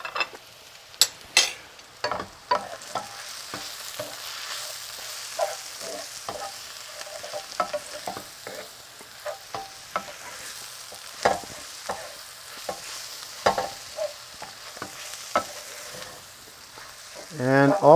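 Spices hit the hot pan for jaghoor baghoor, a Persian street food. A loud, close sizzle runs throughout, broken by frequent sharp clacks and scrapes of a spatula stirring, with a louder burst at the very end.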